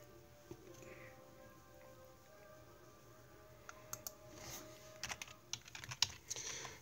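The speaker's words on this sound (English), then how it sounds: "Sorry, I'm typing in." Faint, quiet keystrokes on a computer keyboard come in scattered bursts over a low hum, growing busier and more clustered toward the end.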